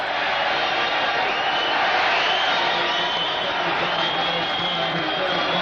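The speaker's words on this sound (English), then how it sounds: "The sarcastic cheer rings out." Sarcastic crowd cheer in an arena at a 1985 Mavericks–Nets basketball game. A broad, sustained wash of distant voices and jeers swells and holds, with no clear break in it.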